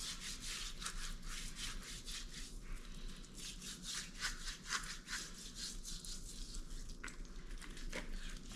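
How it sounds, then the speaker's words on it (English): Hands rub parsley flakes, herbs and seasoning onto a fish before it is steamed, making steady, close scratchy rubbing strokes in a quick repeated rhythm with no speech. "Don't be afraid to rub the seasoning on the fish."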